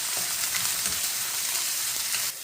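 Green beans sauté in a pan for Jaffna-style vegetable patties, giving a steady broadband sizzle with faint stirring scrapes throughout, close and continuous, dropping slightly at the end.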